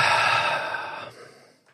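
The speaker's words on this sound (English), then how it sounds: "Take another nice big deep breath for me." One long, deep exhale of breath, heard up close and alone, fading out over about a second before a faint trailing sound.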